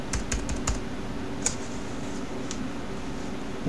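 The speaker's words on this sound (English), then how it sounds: "And we will type sudo" A short burst of close keystrokes as a terminal command is typed on a computer keyboard, a few quick clicks followed by sparse single taps over a faint steady fan hum.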